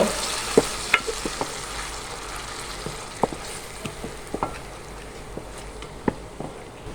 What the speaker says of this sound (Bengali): পেঁয়াজ বাটাটাকে নেড়ে চেড়ে সুন্দরভাবে ভেজে নেব